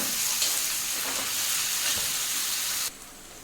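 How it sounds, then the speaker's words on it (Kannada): Onions and tomatoes fry in ghee on a tawa with a loud, steady, close hiss of sizzling that drops sharply near the end. "ಟೊಮೊಟೊನ ಸಾಫ್ಟ್ ಆಗೋರಿಗೆ ಇದನ್ನು ಫ್ರೈ ಮಾಡ್ಕೊಳ್ಳೋಣ"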